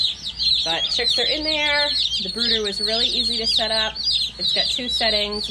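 Baby chicks cheeping constantly in a brooder, a dense chorus of high peeps close up, while a person talks over them.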